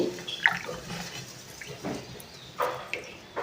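Water poured into a kitchen bowl, faint splashing and trickling with a few brief bursts, heard quietly and up close without talk.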